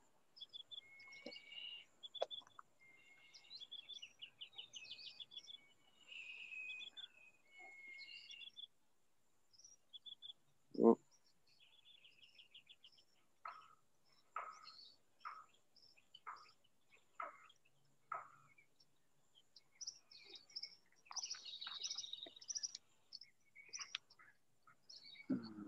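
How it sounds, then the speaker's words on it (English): Panama flycatcher calling near the Panama Canal, a series of short clear whistled notes with other bird chatter, over a steady high insect trill of crickets, plus one brief sharp knock partway through. "The Panama flycatcher, I think."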